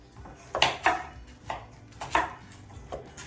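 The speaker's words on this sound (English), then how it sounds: "And Michael, would you like to chop up the tomatoes?" A knife chopping tomatoes and red onion on a cutting board for gazpacho: about six crisp, separate chops at an irregular, unhurried pace, close and fairly quiet, with no talking.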